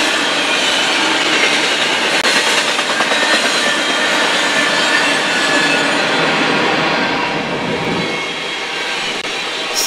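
Norfolk Southern freight train led by EMD SD70ACE and SD60E locomotives rolling past, a loud continuous roar of wheels on rail with metallic squealing and clatter, no voices.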